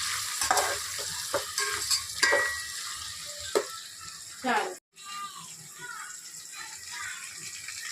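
Onions, green chillies and curry leaves frying with biryani spices in a pan, scraped by spoon strokes over a steady sizzle, with a short loud hiss midway and speech at times.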